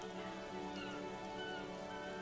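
Rain falls over the city of Revachol in the video game Disco Elysium, a quiet, steady patter with a faint tonal game hum beneath it and no voices.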